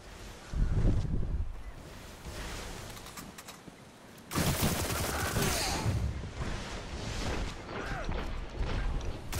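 Gunshots ring out in a first-person shooter, a few loud, close, sharp reports over busy game noise, followed by a denser stretch of firing and clatter.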